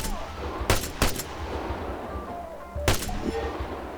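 Several sharp gunshots crack out at targets in the military shooter game ArmA 3, spaced irregularly over a steady ambient background, with no talk.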